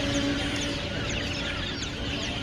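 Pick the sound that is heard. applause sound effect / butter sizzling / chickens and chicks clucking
chickens and chicks clucking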